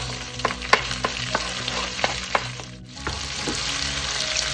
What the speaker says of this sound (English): as we're gonna be sauteing now